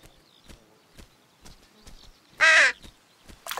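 Cartoon crows and jackdaws in a children's animated film, a single loud, harsh caw standing out against soft, evenly spaced taps like light footsteps.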